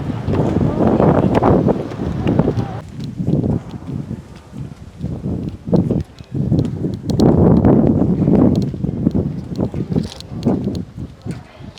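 Strong gusts of wind buffet the microphone in loud, uneven roaring bursts that rise and fall.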